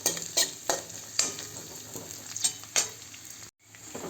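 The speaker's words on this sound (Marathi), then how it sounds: "मी 1 ते 2 मिनटं कांद्याला थोडंसं परतून घेते" Onion sautéing in hot oil for a quick chutney, with steady sizzle and a few sharp scrapes of a spoon against the pan, then a sudden cut to near silence.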